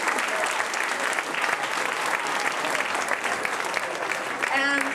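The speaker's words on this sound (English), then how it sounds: "So give them all a big round of applause." Audience at a high school class reunion awards show giving a big round of applause, sustained dense clapping throughout, with some voices and cheering mixed in and a brief tonal sound near the end.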